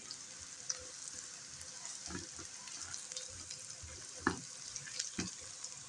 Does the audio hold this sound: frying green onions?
yes